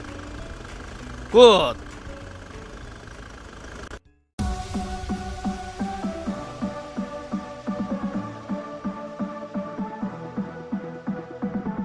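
A SsangYong G4 Rexton engine idling with a steady, regular low throb after a brief pause, with a short spoken word near the start.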